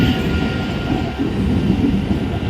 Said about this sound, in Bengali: ট্রেন এখানে এসে আধ ঘন্টা হয়েছে দাঁড়িয়ে আছে